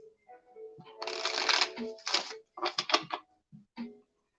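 Tarot cards for a shaman psychic reading are shuffled in quick, papery riffling bursts, close and fairly loud, with short pauses between bursts and a faint voice murmuring early on.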